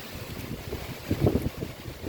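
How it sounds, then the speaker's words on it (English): Gusty wind buffeting outdoors, a steady low rumble with stronger gusts surging near the middle, moderately loud and with no voices. "It's very windy today."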